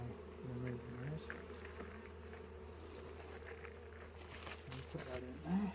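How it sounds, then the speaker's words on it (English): Honey bees buzz faintly around a hive frame during a small honey harvest, a thin intermittent hum mixed with soft handling noises and a low background drone, quiet and close. "yeah, there's one bee there."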